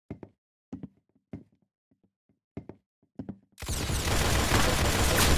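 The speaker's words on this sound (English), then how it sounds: "That's some beautiful shooting right there." Gunfire in a shooting video game: several sharp single shots spaced apart, followed by a loud sustained burst of continuous fire.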